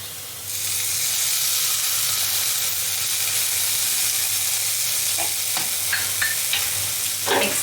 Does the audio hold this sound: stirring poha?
yes